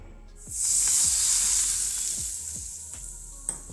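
Hot oil poured over paneer tikka bursts into a loud, bright sizzle that swells quickly and then fades slowly, with a few soft clinks underneath and a small tap at the end.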